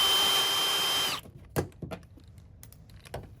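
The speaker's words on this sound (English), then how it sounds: "I'm just going to use my right angle attachment here for my drill." A cordless drill with a right angle attachment whirs steadily for about a second removing bolts on a 2022 Ford Maverick, then stops, followed by a few sharp clicks and clatters of metal parts being handled.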